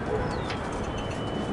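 Pigeons coo softly on a rooftop loft, a low murmuring coo in the background with some ambient outdoor noise, brief and continuous.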